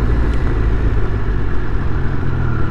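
Triumph Speed Triple 1200RR motorcycle engine running at steady mid-range revs, a loud, continuous low rumble with dense mechanical clatter that holds an even level throughout, with no voices.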